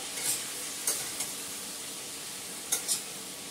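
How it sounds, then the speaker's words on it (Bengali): Curry with potatoes and ginger paste being stirred in a pan, giving a few sharp scraping strokes over a quiet, low sizzle, close by and without talk. "এটাকে ভালো করে আমি নাড়াচাড়া করে, আদা বাটাটাও দিয়ে দিলাম"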